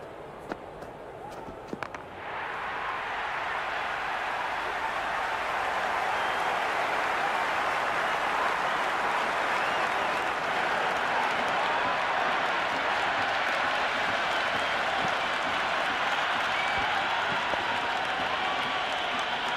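Stadium crowd noise in the Cricket 26 video game during an IPL LSG vs DC match: a dense, sustained roar of cheering that swells after a couple of seconds and holds steady and loud.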